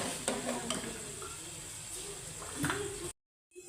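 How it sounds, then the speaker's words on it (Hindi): Green chillies stirred into a sizzling Afghani karahi of tender meat in the pan, steady frying hiss with scraping stirs, quiet and close, ending in a brief silence. "अब हम इसके अंदर सब्ज़ मिर्ची ऐड कर देते हैं।"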